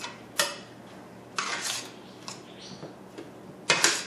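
Kale and mushrooms being stirred in a pan, giving a few short scraping clinks of utensil against pan spread through a quiet background, with one louder scrape near the end.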